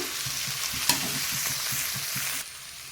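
A potato and drumstick-leaf paratha filling fries in oil, a short steady sizzle broken by regular stirring scrapes and one sharp clink, then settling quieter at the end.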